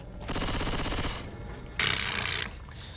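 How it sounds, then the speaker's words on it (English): Submachine gun in Left 4 Dead 2 firing two rapid bursts, each a dense, loud rattle of quick shots lasting about a second, with a short pause between them. "Okay, so now I have a submachine gun. This gun shoots really fast."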